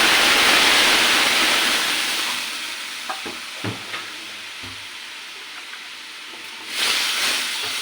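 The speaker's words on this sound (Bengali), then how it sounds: "পেঁয়াজ রসুনটা ভাজা হয়ে গেছে, দিয়ে দিচ্ছি ডালটাকে।" Masoor lentils go into a pan of fried onion and garlic, and a loud sizzle fades to a soft hiss, broken by a few knocks of a spoon or pot. A brief sizzle rises again at the end.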